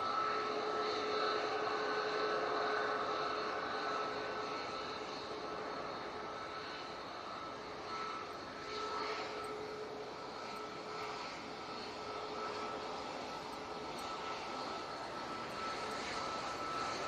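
Emirates A380 landing in a flight simulator game, a steady, fairly quiet jet engine drone with a faint high whine that eases slightly midway, with no talking.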